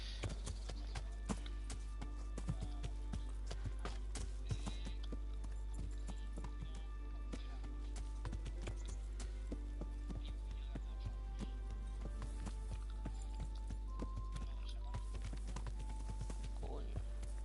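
A horse ridden through bushes in the medieval game Kingdom Come, steady hoof clip-clop and rustling over a constant low hum, with someone talking intermittently over it.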